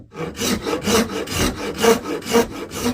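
A cabinet rasp shapes a wooden spoon in difficult grain, making close, rhythmic rasping strokes, about six in quick succession.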